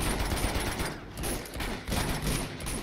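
Gunfire in Uncharted 2: Among Thieves, a dense stream of rapid automatic shots crackling continuously up close, with a brief dip in intensity before the firing resumes.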